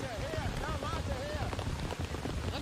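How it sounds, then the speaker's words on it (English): Torrential downpour on a grass football pitch during a women's soccer match in Cary, North Carolina, a dense steady hiss of rain under crowd and commentary noise, with some high tones weaving through. "it is a torrential downpour here in Cary, North Carolina"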